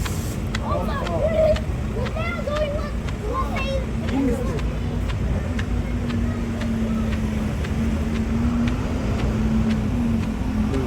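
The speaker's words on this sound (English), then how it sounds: "Lots of buses." Steady traffic roar fills a busy Dublin street crowded with people and buses, engines rumbling continuously with background chatter, birdsong and distant voices mixed in.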